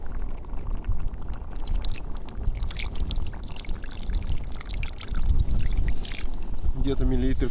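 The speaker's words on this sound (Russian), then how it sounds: "Ну и все же можно добавить немножко воды." Water is poured into a pot of pilaf made with chicken and pork, a steady splashing pour running throughout with a voice speaking over it.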